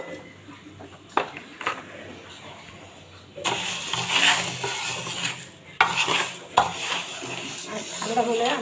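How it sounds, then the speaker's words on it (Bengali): Fried black lentils tumble out of a pan to cool in rattling, scraping bursts, with clinks of metal on metal. A quiet stretch comes before the louder pouring, and someone speaks at times. "এটা আমি এখন ঢেলে দিব ঠান্ডা হওয়ার জন্য।"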